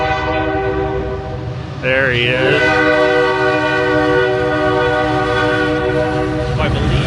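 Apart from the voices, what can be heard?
train passing with horn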